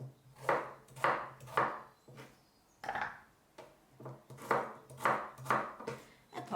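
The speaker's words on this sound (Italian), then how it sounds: "prendiamo il nostro sminuzzatutto e andiamo a mettere le carote in maniera grossolana, tanto il lavoro serio lo fa lui" An electric food chopper working on coarsely cut carrots for a bolognese ragù, running in a steady series of short pulsed bursts of whirring and clattering, close and fairly quiet, with no speech.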